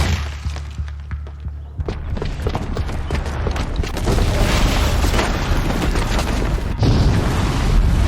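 A bomb explodes in Horizon Zero Dawn, a loud roaring blast that builds into a heavy rumble after a few quieter thuds, with a second surge of debris and rumble near the end.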